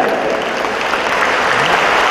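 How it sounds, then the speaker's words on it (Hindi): An audience at a rally address claps together, a dense, loud and steady burst of applause with crowd noise, without a break. "इसके लिए सब लोग 14 बार तालियां बजाएं।"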